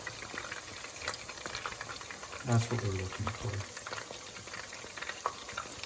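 Egg-and-flour battered fish deep frying in hot oil, a steady close crackling sizzle with bubbling throughout, while someone talks briefly partway through.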